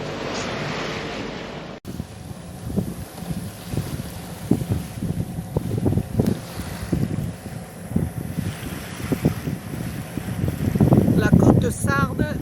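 A sailboat motors along the Mediterranean coast off Sardinia, its engine droning steadily beneath rushing wind, buffeting microphone noise and splashing waves, with someone speaking over it.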